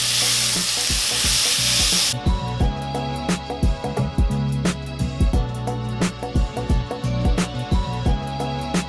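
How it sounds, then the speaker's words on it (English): Lamb keema sautéing on high heat, a steady close sizzle under rapid, rhythmic spatula scrapes and stirring knocks against the pan, with a brief burst of loud hissing at the start. "now I'm going to increase my heat to high, and we're going to saute it until the meat is nice and brown"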